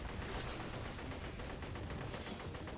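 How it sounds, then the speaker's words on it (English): Rapid gunfire and explosions from grenades thrown in the shooter game Borderlands 2 form a dense, continuous, uniformly loud barrage with no pauses. "Throw it out. Get some grenades out there."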